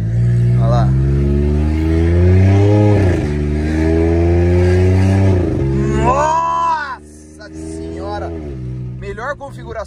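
A Volkswagen Polo TSI with an original intermediate muffler and an exhaust diffuser revs hard and rises and falls in pitch, loud and close, with people talking over it.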